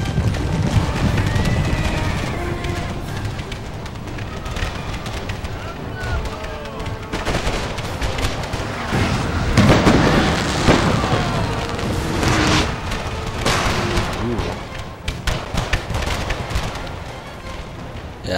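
Artillery cannons fire on massed Cossack cavalry in a Napoleonic-era strategy video game, a dense barrage of booms and crackling volleys layered with battle din and someone talking over it.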